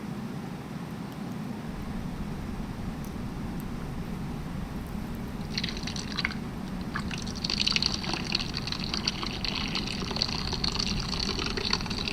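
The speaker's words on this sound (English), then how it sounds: "here I have my glass ready with lots of ice because it's nice and hot out here. I am ready to pour." Cantaloupe agua fresca pours into a glass packed with ice, starting as a low steady gurgle, then brightening into splashing and crackling ice as the glass fills, close and continuous with no talk.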